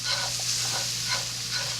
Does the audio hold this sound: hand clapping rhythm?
no